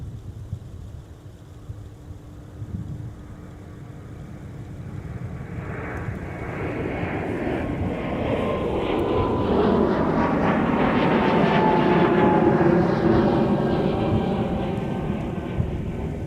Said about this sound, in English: we got Delta 2971 motoring off to Dallas